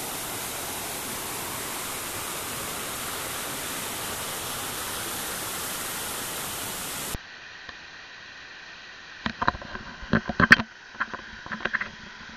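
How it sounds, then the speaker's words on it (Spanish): A waterfall roars as a loud, unbroken wash of noise for about seven seconds. It then cuts abruptly to quieter surroundings with a scatter of sharp knocks and clatters. "¡Qué preciosidad de cascada!"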